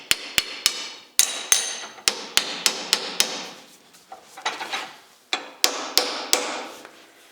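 Hammer tapping steering wheel parts into alignment on a custom wood-grain wheel for a 1956 Chrysler 300; sharp, close metallic strikes come in quick irregular bursts, about twenty blows with short pauses, no talk.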